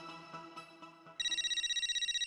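A few soft knocks give way suddenly to a telephone ringing, a loud, rapid repeating electronic trill that runs steadily to the end.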